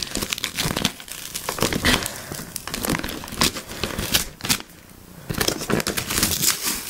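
Paper mail packaging being torn and crinkled open, a continuous run of loud, close rustling, ripping and crumpling with brief pauses.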